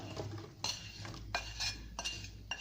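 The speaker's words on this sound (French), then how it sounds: "je vais ajouter donc les lamelles de pommes" Apple slices being added to a pan over low heat, heard as close metallic clinks and scrapes of a utensil against the pan in four distinct bursts over a low steady hum, with no voices.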